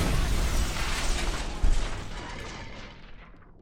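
A car blows up in the video game Just Cause 2 with a loud, dense, rumbling blast that fills the whole clip, then trails off into quiet over the last second.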